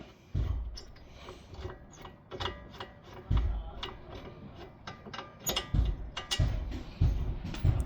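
A ratchet loosens and unthreads a wheel hub bolt on a 2011 Chevy HHR, making close, loud bursts of rapid clicking separated by short pauses.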